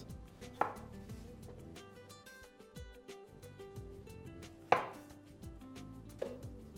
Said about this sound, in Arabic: واقطعها اي تقطيع برضو لاني هضربها في الخلاط